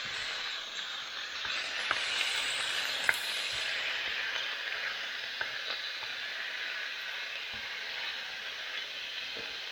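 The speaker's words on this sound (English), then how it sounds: "we're going to put some color on this meat. We're not going to try and cook it. We're just simply browning it." Meat browns in a hot pot for goulash, a steady close frying sizzle with a constant bright hiss and a few faint pops and ticks throughout.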